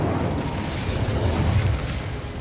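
The Incendio fire spell is cast in Hogwarts Legacy, a loud whooshing burst of flame with a deep booming rumble that swells midway and fades, heard alone without talk.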